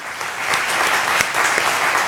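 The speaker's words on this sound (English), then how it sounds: "let's give another warm applause to Wendy Barnes" An audience at an evening church service claps warmly in a steady, dense burst of applause that fills the room throughout.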